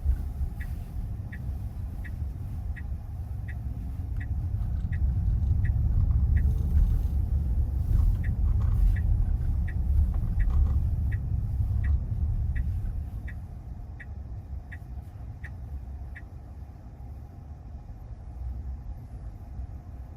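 Tesla Model Y electric car driving in sport mode, a low road rumble that swells and fades, with a steady ticking indicator-like chime repeating throughout, heard from inside the cabin without talk.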